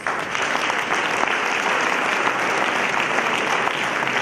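An awards-ceremony audience at a wildlife awards event breaks into loud, sustained applause, a thick continuous patter of many hands clapping at steady strength from start to finish, with no speech over it.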